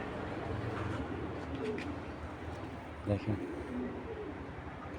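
Pakistani Giribaz pigeons coo in a few soft, low bursts close by, with someone talking over them throughout.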